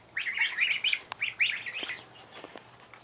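Six young goslings in a brooder give rapid, high, overlapping peeps in a short burst that thins out toward the end, close and fairly soft.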